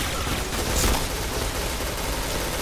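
Gunfire in a shooting video game rattles in a dense continuous barrage, loud and sustained throughout with a brief swell near the start, with no talk.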